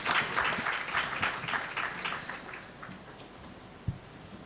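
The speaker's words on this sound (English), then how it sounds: "Ladies and gentlemen, a round of applause." Audience applause at a regional conference on health financing, a dense burst of clapping that gradually thins and fades, with one sharp knock near the end.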